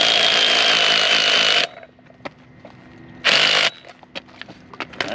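A power tool tightens the new nut on a car strut in two loud, sustained high-pitched whirring bursts, each lasting a second or two. Quieter clicks and handling noises of metal parts fill the gaps between them.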